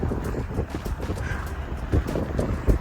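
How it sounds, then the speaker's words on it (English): Strong wind buffets the microphone in a steady low roar, with gusts swelling now and then, while someone walks along a road into Villadangos del Páramo on the Camino Francés. "The wind is so strong, I'm walking into the wind"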